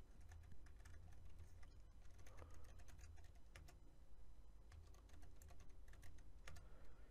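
Steady, dense clicking of typing on a computer keyboard while dates and styling code are entered for an article page, with keystrokes running continuously throughout and no voice.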